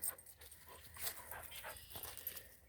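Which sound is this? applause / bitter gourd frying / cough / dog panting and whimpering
dog panting and whimpering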